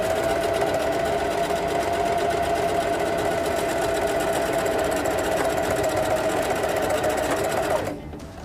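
A sewing machine runs continuously as it stitches a cloth face mask seam, giving a steady, close, loud mechanical whir with a rapid needle beat that stops abruptly near the end.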